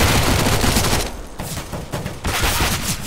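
Rapid bursts of Mac 10 submachine gun fire in Counter-Strike: Global Offensive, dense loud automatic shots with a brief lull in the middle before firing resumes in quick strings.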